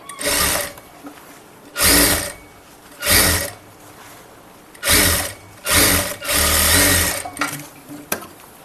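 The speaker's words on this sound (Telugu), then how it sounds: "డబల్ స్టిచ్ అనేది వేసుకుందాం." A sewing machine stitches a double stitch in about six loud, close whirring bursts, each separated by a short quiet pause, with the last run lasting longest. No one speaks.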